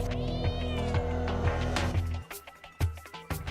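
Repeated cat meows from a video game where the player is a cat going on missions, sounding over steady game music, with the meows drawn out and rising, then shorter calls near the end.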